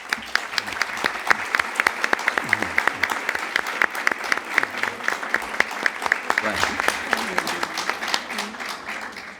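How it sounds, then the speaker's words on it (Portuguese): An audience at a conference session on peace strategies for Cabo Delgado, Mozambique, breaks into sustained applause, a dense patter of many hands clapping for several seconds. "E eu peço uma salva de palmas."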